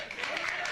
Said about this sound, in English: All right, let's clap for them.